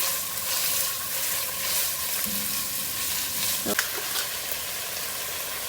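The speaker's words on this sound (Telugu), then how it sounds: "ఆనియన్తో పాటు గ్రీన్ చిల్లీస్ కూడా వేస్తాను కూడా కొంచెం ఫ్రై అవ్వాలి" Chopped onions and green chillies fry in hot oil in a pan, giving a steady, close sizzle throughout with a brief stirring clatter near the end.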